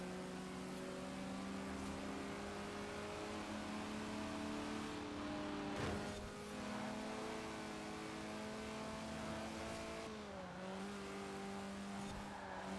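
A car engine in Forza Horizon 4 hums steadily with rising and falling pitch as it drives and shifts gears, a synthetic game-like drone with no talking.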